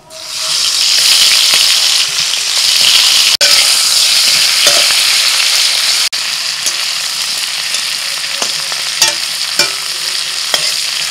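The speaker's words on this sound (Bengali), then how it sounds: "কড়াইতে সরষের তেল দিয়েছি, চিংড়ি মাছ ভেজে নিচ্ছি।" Prawns fry in mustard oil in a wok with a loud, continuous hiss and crackle close by. Brief clinks and scraping of stirring punctuate the sizzle, and no one speaks.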